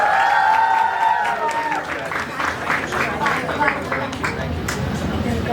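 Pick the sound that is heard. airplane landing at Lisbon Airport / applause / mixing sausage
applause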